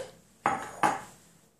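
An oversized mug set down twice on a hard surface, two sharp ceramic clunks about 0.4 seconds apart, close and clear, each dying away quickly in an otherwise quiet room.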